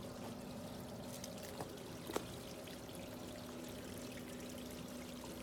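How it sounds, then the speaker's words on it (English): A water cascade pours and trickles near a river in a garden setting, a soft continuous splashing flow with a faint steady hum and a couple of small knocks. "You see the cascade, how cool it is."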